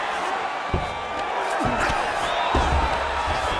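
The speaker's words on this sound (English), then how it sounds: "the crowd is loving it. The crowd's going crazy" Roaring arena crowd in the UFC 5 fighting game during a Bruce Lee versus Yayan Ruhian bout, a loud steady wall of cheering with a few sharp impact thuds and a commentator talking over it.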